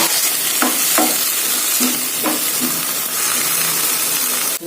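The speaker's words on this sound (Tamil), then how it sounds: "இப்போ தேங்காய் மிக்ஸி ஜாரில் தேங்காய் அரைச்ச தண்ணி இருக்குது" Ground coconut water hits a hot pan of broccoli, and a loud, hissing sizzle fills the scene. Several short ladle taps punctuate the steady frying noise.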